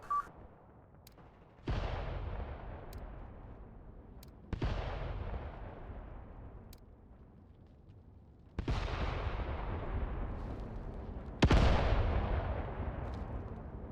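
Artillery and gunfire in the war game Mius Front: four heavy booming blasts at irregular intervals, each with a long rumbling decay, with faint sharp cracks of distant gunshots between them.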